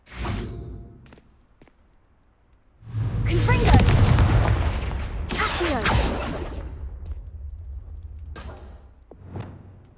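A blasting spell cast in the Hogwarts Legacy video game: a deep whooshing boom swells and rumbles for several seconds, followed by sharp crackling bursts and smaller impacts.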